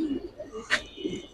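Makra pigeons, a hen and cock of coloring and silver breeds, coo in low murmurs with a brief sharper rustle in the middle, while people talk nearby.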